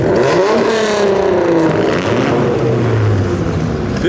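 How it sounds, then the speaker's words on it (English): Car engines rev and exhausts and mufflers rumble loudly in the background at a car event, with rising and falling engine tones and clattering noise throughout, no voices heard. "I'm gonna have to shout over all the mufflers and exhausts that are going off in the background"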